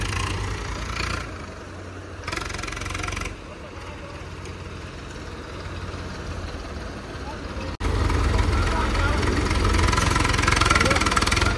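Swaraj 855 tractor engine running with a steady low diesel rumble, nearby, under shouted voices and talk, growing louder in the final seconds.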